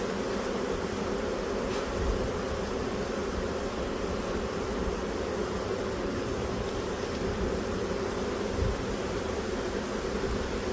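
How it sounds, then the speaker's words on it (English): A swarm of honey bees hums steadily around a hive being split, a constant droning buzz with a hissy, wind-like wash and a couple of faint low bumps. "These are all the bees that were going up there."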